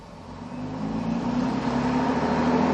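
A bus engine drones and builds steadily as the vehicle pulls away, the low mechanical hum growing louder over a few seconds with no voices.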